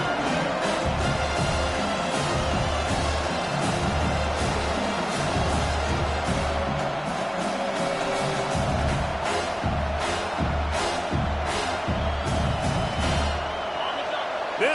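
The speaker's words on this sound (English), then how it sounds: "This crowd bringing the energy and noise early." Dense, steady roar of a large stadium crowd at a Notre Dame versus Michigan football game, constant and loud throughout, with scattered shouts and whoops rising from the mass of voices.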